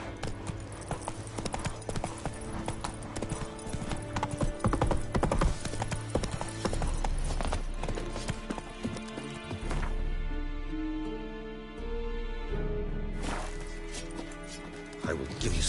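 Horse hooves clop rapidly at a gallop in The Witcher 3, a steady rhythmic pounding with occasional whinnies and game impacts, while a voice briefly speaks over it.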